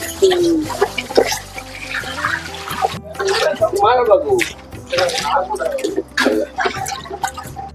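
Water splashes and drips as fish pieces are washed for a Telugu-style fish curry, uneven bursts of water sound close by under lively overlapping conversation.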